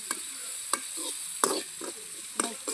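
Mustard seeds, curry leaves, dried chillies and onion sautéing in a pan, a soft low sizzle broken by a few sharp scraping strokes of a spoon, close and without voices.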